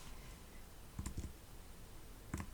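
A computer keyboard clicks in two quick pairs of keystrokes, close and quiet, during photo editing in Lightroom, with a soft room hush between them.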